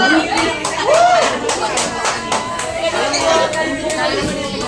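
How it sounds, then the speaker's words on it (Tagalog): Guests at a child's first birthday party held at a McDonald's clap in steady, fairly close rounds, while a host's voice and general chatter carry on over the applause. "Palakpak si Sir."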